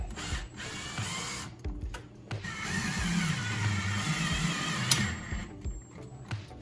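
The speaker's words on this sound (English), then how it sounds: "it's one of the perks of having a drill that I can just go to town with here" A power drill drives a screw into a wall stud while an over-the-range microwave is being replaced, giving a few short whirring bursts and then a steadier grinding run, close up and with nobody speaking.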